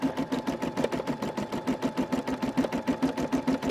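An embroidery machine stitches a design in a steady, rapid mechanical rhythm, its repeating needle strokes close and continuous with a constant motor hum underneath.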